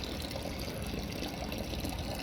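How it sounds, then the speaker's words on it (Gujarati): Water flowing into a farm tank or trough from a pipe, a steady, fairly quiet rushing and splashing that runs unbroken throughout. "હવે જો પાણી આવ્યું"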